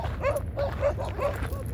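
Dogs in a desert garden in Saudi Arabia giving a quick series of five or six close, high yips and barks in a steady rhythm.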